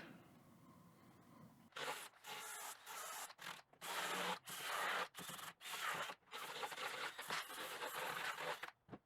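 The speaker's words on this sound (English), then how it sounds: "So I've decided to use a flap disc and just get all this foam off of the plastic." A flap disc grinds foam off a plastic door panel in repeated loud bursts, each a rough, hissing abrasive roar of a second or so, separated by short pauses, after a quieter stretch at the start.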